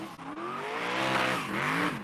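A car drifts and skids in a racing game, with tires squealing loudly over a revving engine for about two seconds and a rising, sliding pitch.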